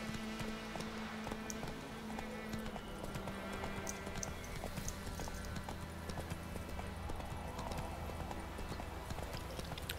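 Steady, rhythmic clip-clop of horse hooves from the Witcher 3 game, trotting continuously at moderate loudness for several seconds, with occasional faint voice in the background.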